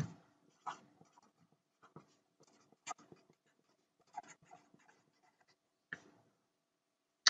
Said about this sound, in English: So let me write it down here.